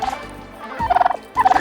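Two bursts of rapid, warbling turkey gobbles on a homestead at evening feeding time, close and fairly loud, separated by a brief lull.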